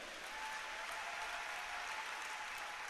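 A church congregation applauds steadily during a sermon, a dense, continuous wash of clapping hands at moderate distance with no break throughout.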